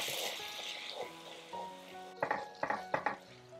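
Apple risotto is stirred in a pan as broth is added: a soft watery hiss at first, then several distinct metallic clinks and scrapes of a spoon against the pan, with faint tonal background sound.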